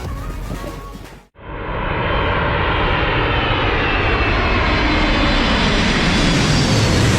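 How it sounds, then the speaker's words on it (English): An airplane roars past close to the crowd at an Australian air show, a loud sustained engine rush swelling after a brief dip and holding strong to the end, with no voices. "planes zoom right past the viewers, getting unbelievably close"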